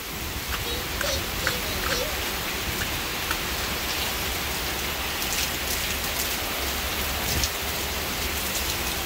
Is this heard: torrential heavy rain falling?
yes